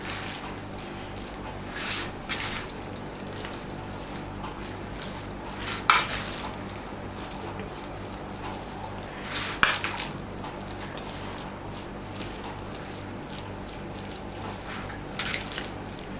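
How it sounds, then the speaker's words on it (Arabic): Vermicelli being stirred into chicken for a Moroccan pastilla filling, soft squishy mixing with occasional louder clinks of a utensil against the bowl, close and low-key over a faint background hum. "نستمر هكذا حتى نخلط مزيان هاد الشعريه مع هاد الدجاج"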